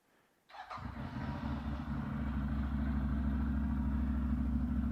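A CFMoto CForce 800 four-wheeler ATV cranks and fires up after a short quiet moment, then settles into a steady, rumbling idle close by.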